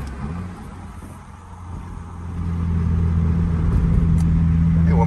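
A Subaru WRX running an E85 tune revs through downshifts, its engine note dipping and then swelling into a louder, steady drone heard from inside the car.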